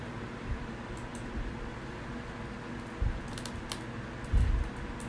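Keys clicking on a laptop keyboard in a quiet room, soft, irregular taps at low level over faint background hiss, with a few slightly heavier strokes.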